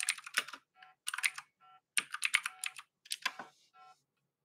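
A computer keyboard typed in four quick bursts of clicking keystrokes, close and clear with short pauses between bursts and no voices.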